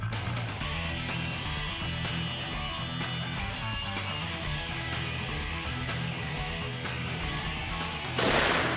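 A cannon fires once near the end, a loud broadband boom that bursts over a continuous low rumbling background.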